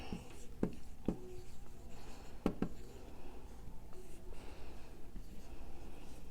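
Marker strokes on a whiteboard while a lunch plate is drawn out for a nutrition review, with a few sharp squeaky taps and scratches spaced across a quiet room and no talking.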